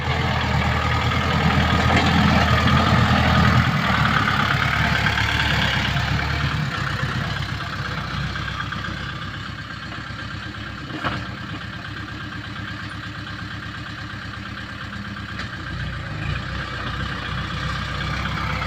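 A tractor engine drones steadily while plowing a curved rice paddy on the second pass, a continuous low rumble that stays fairly close and eases slightly midway, with no voices.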